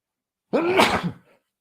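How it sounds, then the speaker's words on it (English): A single close sneeze, a sharp voiced burst that trails off quickly into silence. "sorry, I'm about to sneeze"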